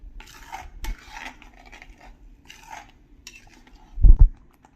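A spoon scrapes softly in a pan while jackfruit vegetable in white gravy is sautéed. A single loud metallic clank of spoon against pan comes near the end.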